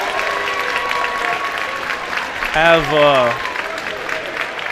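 Crowd and the opposing Glasgow bench clap for cheerleaders at the end zone of a high school football game, a broad steady wash of applause under a commentator's voice, with a brief tonal sound rising over it near the end.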